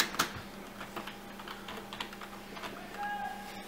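Keys tapped on a computer keyboard at an uneven pace, with a few sharper strokes standing out from the soft clicking, close by and with nobody talking.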